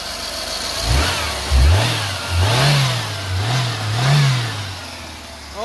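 1949 Cummins diesel engine with a hillbilly exhaust brake, revved several times in a rising and falling rhythm over a rough idle, loud and close with no speech.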